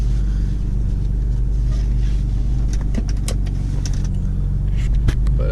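Supercharged car engine idling steadily and close by, a loud constant low rumble with a faint higher whine and a few light clicks on top, no speech.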